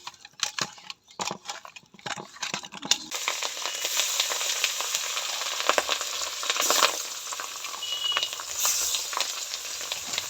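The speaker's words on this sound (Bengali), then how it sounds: "মাছগুলো ভালো করে ভাজবো আমি" Small pabda fish seasoned with turmeric and salt fry in hot mustard oil, starting with scattered crackles and pops, then settling into a loud, steady sizzle with sharp spitting bursts close by.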